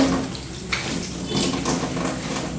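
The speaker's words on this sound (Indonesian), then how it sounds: "Selanjutnya kita bilas ke air mengalir" Water runs steadily from a tap while hands are rinsed under it, a continuous close splashing hiss with small shifts as the hands move through the stream, with no talk.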